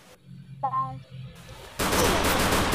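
Gunfire in Free Fire: a few sharp shots and a short tonal blip, then a loud sustained burst of rapid fire dominating the last second.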